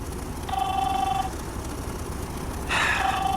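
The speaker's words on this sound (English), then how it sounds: "Get that phone." Telephone bell ringing in two bursts, a short ring then a pause before a second ring, clear and fairly close over a low background rumble.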